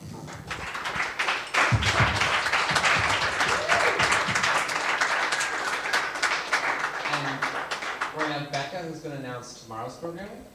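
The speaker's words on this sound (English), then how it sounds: "let's all give them a round of applause" Sustained applause from a crowd at a youth leaders' event in Copenhagen, dense clapping that swells and holds for several seconds before thinning out, with voices and cheers rising near the end.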